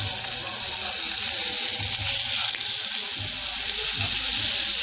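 Sausage hitting a hot olive-oiled pan over low heat for chili beans, giving a steady, loud broadband sizzle that hisses continuously throughout, with no talk.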